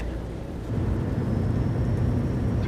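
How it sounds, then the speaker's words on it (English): Steady rain drums over a low rumble while a truck drives in Euro Truck Simulator, a dense, even wash of noise that continues without pause. "Alright, we are hauling in the rain."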